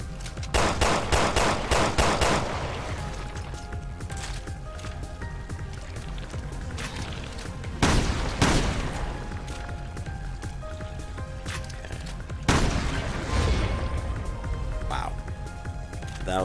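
Gunfire in Resident Evil Revelations 2: rapid bursts of shots open the stretch, then single loud blasts ring out now and again over ongoing game noise, with a player's voice talking at times.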